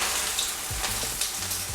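An egg fries in a hot pan, giving a steady close sizzle with a few low popping bursts scattered across the short stretch and no voices over it.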